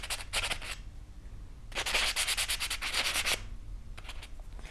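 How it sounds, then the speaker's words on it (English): Hand sanding of a patina-coated metal necklace piece with the dark gray side of a reliefing block, heard as close, steady gritty rubbing strokes in two bursts with short pauses between. "And sand."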